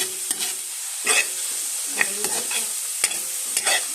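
An egg fries in a pan, a steady close sizzle running throughout with a few louder crackles and stirring clicks scattered across it.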